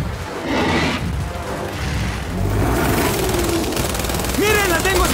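Gunfire in the Gears 5 video game as a dense, continuous rattle of shots and impacts with game effects, heard under excited Spanish commentary from a player.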